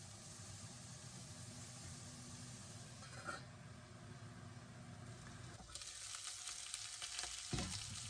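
Garlic and onion frying in ghee with asparagus and chili in a pan, a very faint, steady sizzle with a brief clatter and a louder hiss near the end, no voices.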